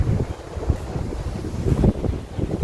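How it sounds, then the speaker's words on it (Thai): Strong wind gusts around a house in Canada on a summer day, buffeting the microphone with a loud, low, uneven rumble that swells and eases, with no voices. "แต่ลมแรงนิดนึงนะ"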